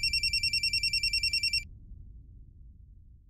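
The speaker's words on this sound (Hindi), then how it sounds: "अम्मा तुम्हारा फोन बाजे था।" A telephone rings in a rapid trilling electronic pattern for about a second and a half, then stops, leaving a quiet room hum.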